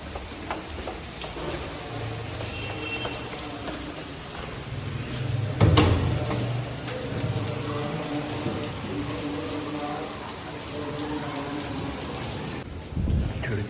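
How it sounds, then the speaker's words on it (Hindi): Heavy rain pours steadily and loudly on a home during the evening, a dense continuous hiss with brief louder surges, no voices. "बहुत ज़्यादा तेज़ बारिश हो रही है।"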